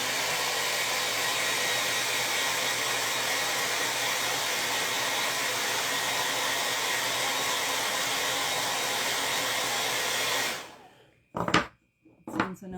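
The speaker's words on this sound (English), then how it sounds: "I'm drying it with the blow dryer" A hair dryer roars steadily and loudly for about ten seconds drying chalk paint, then switches off, followed by a few short bumps and handling noises.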